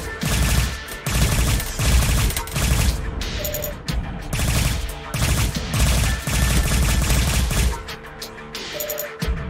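Continuous heavy weapons fire from a flying craft aimed at a turret in the video game Silverwing, loud bursts of rapid gunfire and booms repeating throughout with brief pauses between volleys.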